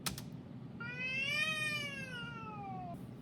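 A person's voice imitates a cat's meow: one drawn-out, rising-then-falling meow, clear and close, over a low background hum.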